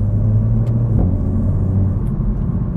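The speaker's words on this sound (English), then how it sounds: "I feel like there's a touch more road noise." A car drives along a country lane on tires at 40 PSI, producing a steady, low road rumble and tire hum from inside the cabin, constant and close with no talking.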